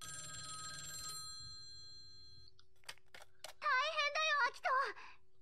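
A phone rings briefly in the game A Sky Full of Stars, a steady electronic tone that stops after about a second, followed by faint clicks and a short burst of animated game voice chatter.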